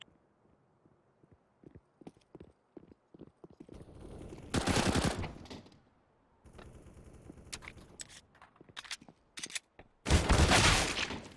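CZ pistol gunfire in the video game CS:GO: two loud rapid bursts of shots separated by quieter clicks and scattered taps, with no voices.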